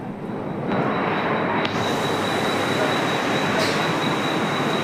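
A Mumbai local train at Kurla station makes a steady loud rumbling roar throughout, with a faint high whine and brief clanks from the carriages.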